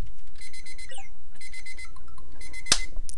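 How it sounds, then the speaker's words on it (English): A kitchen oven timer beeps in rapid repeated bursts of high electronic tones, fairly loud and steady, with a sharp clack near the end. "stupid oven timer"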